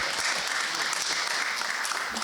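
A seminar audience in Busan gives a warm round of applause to welcome a university professor to the podium, brisk dense clapping from a room full of people, continuous and fairly loud.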